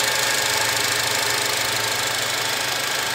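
A 2007 Acura TSX engine fitted with an Injen cold air intake runs steadily close to the microphone, a loud, continuous mechanical hum with a slight rattling knock and faint high whine.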